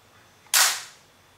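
A KWA Kriss Vector airsoft gun fires a single sharp, close crack with a brief fading tail, heard alone against a quiet background.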